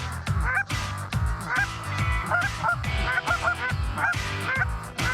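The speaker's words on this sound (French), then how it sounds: "la montée des outardes vers le champ ne dure pas très longtemps" Canada geese honk loudly and repeatedly as a flock flies up toward a field in Quebec, their overlapping calls close and continuous with no talking.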